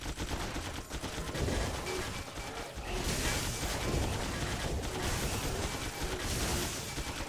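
The Vanquisher fires continuously in the action RPG Torchlight, a dense, unbroken stream of loud shots and impacts filling the whole stretch.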